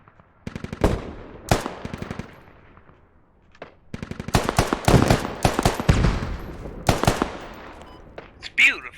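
Gunfire in a competitive shooter match: bursts of rapid automatic fire and single sharp shots, some close and loud, others thinner, arriving in uneven clusters with a player talking over them.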